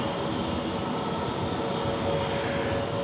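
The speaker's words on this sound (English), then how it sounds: "And about to come around the corner, we have the Iceland Air A321neo" An Icelandair A321neo airliner taxiing at Manchester Airport produces a steady, even engine rumble and hiss that stays constant throughout.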